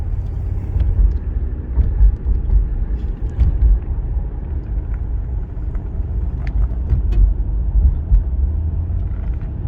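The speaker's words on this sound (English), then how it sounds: "As you can see or hear, I'm kind of going over a bumpy road." A 1995 Cadillac Fleetwood Brougham rolling over a bumpy road, heard from the cabin as a steady low rumble with scattered soft knocks and thumps from the suspension, no talking.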